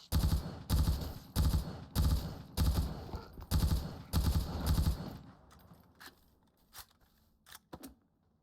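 Rapid automatic gunfire in the survival game Dysterra rattles in about nine loud, evenly spaced bursts, then gives way to scattered softer clicks, thuds and quiet game effects.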